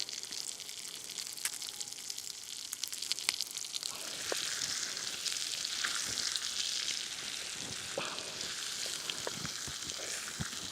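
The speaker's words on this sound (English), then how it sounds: "it's time to fry up some potatoes and fish" Potatoes and fish fry in a pan at a bushcraft hammock overnight camp, giving a steady close sizzle and crackle with occasional scrapes and clinks throughout.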